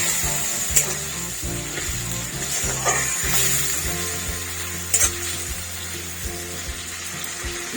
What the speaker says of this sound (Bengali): মশলাটা একটু কষিয়ে আসো,